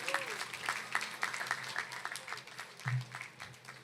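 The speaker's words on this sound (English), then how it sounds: "Let's give a round of applause for Loic Charles again." Scattered applause from an audience at a youth rally, distinct individual claps in a quiet room with a low hum and a faint voice underneath.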